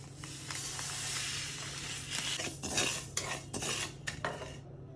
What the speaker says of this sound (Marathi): आता ह्याच्यामध्ये हळीम भाजून घेऊ